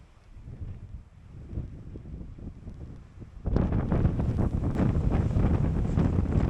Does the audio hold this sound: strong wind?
yes